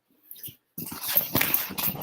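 A dog whimpers softly and briefly, then after a short pause gives a run of louder whining, yelping vocal sounds close by in a quiet apartment.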